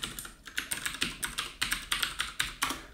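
A computer keyboard clatters under quick typing, about a dozen crisp keystrokes in a fairly regular rhythm, close by and moderately quiet, with no voices.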